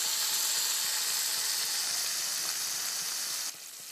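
Marinated paneer with spices and yogurt frying in a pan over a low flame, a steady bright sizzle that holds evenly, then drops noticeably quieter near the end.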